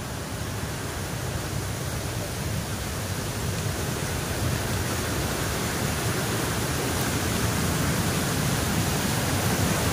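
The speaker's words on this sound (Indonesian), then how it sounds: "Ke bawah tuh ada air terjun." A waterfall on Mount Guntur, below post 2 of the Citiis trail, gives a steady, loud, broadband rush of falling water that continues without a break and with no voices over it.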